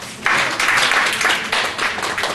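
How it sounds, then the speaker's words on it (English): A group of workshop participants claps together, a short burst of dense, fairly close applause that rises in uneven waves and stays loud across the whole moment with no talking. "Give a clap to yourselves."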